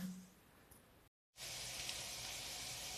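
Pork frying in a multicooker for pilaf, giving a steady, loud broadband sizzle and hiss that fills the second half after a brief silent gap, with quieter sizzling before it.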